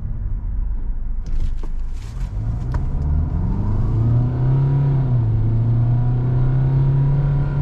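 A Kia Carens diesel with a six-speed automatic accelerates hard in sport mode from inside the cabin, its engine note rising in a loud, swelling drone over steady road rumble, without talk.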